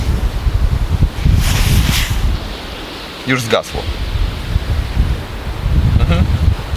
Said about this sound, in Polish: No i teraz zaczyna wiać wiatr.